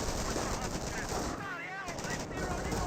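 An MG42 machine gun fires in the Company of Heroes battle game, a dense, continuous rattle mixed with other combat noise, with a voice talking over it.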